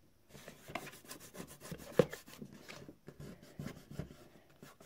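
Fingers pressing and rubbing glued paper onto a handmade craft gift box, giving close, irregular scuffing and rasping strokes with one sharper tap midway, and no talk.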